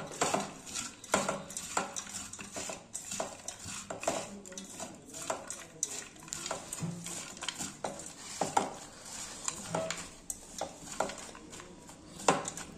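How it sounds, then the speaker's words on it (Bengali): Makhana being mixed with sauce for a spicy Kurkure snack, with soft, irregular stirring and scraping of utensils against a bowl, fairly quiet and close, with no talking. "তো এবার আমি এটাকে একটু ভালো করে মেখে নেব।"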